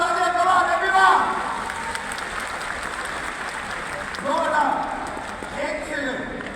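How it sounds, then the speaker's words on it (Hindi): A crowd applauding at a company award function in Kolkata: continuous clapping throughout, swelling at the start and again later, with voices or music tones over it. "मैं चाहूंगा इतनी देर पर जोरदार तालियां करो एवरीवन"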